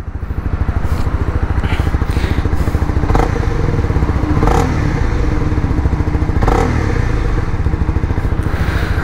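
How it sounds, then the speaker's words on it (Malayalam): A Honda CB 300 R motorcycle's exhaust runs loud and close with a rapid, steady throbbing idle and rev, a few sharp clatters and thumps breaking through. "എക്സോസ്റ്റ് സൗണ്ട് അല്ലേ."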